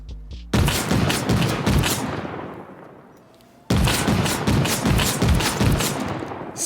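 Auto-turrets armed with SPAS shotguns fire in a survival video game, letting off two long, loud, rapid volleys of blasts separated by a fading lull of about a second.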